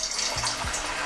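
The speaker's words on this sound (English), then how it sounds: "we're gonna fry the chicken, get a nice golden brown color on it" Chicken pieces fry in hot oil at medium-high heat, around 165 to 170 Celsius, giving a steady, dense sizzling hiss with no voices over it.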